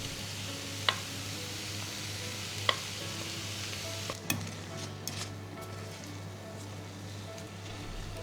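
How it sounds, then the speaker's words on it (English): Soft sizzling of pineapple filling toasting in a pan for Taiwanese pineapple cakes, with a few scraping stirs and light clicks of a utensil against the pan. "Keep toasting the pineapple until it dries out."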